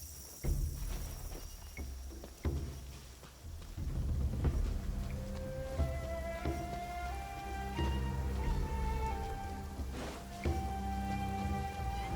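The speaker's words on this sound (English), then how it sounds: "It's raining again." Rain in the video game Genshin Impact patters steadily at a soft level, with a gentle game music melody playing over it.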